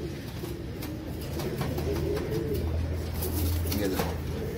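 Chandarkhani pigeons coo in low, repeated rolling calls nearby, steady over a few seconds, with some light rustling and clicks around them.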